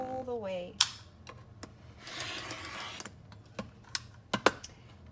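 Scissors trimming the fabric edges of a sewn binder pouch, a few sharp snips and clicks scattered over several seconds with a brief burst of fabric rustle, close and fairly quiet, with a voice heard briefly at the start.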